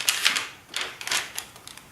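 Crisp, light crinkling of lightweight planner paper close by, coming in several quick bursts of rustle with short pauses between them.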